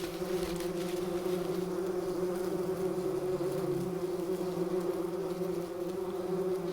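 Bumblebees drone steadily around their nest in a continuous close buzzing hum, with several insects overlapping and no voices present.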